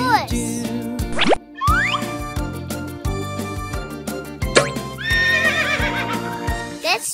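A toy horse plays an electronic neigh and whinny with rhythmic clip-clop hoof beats and bouncy boing effects, bright and close over a repeating jingle.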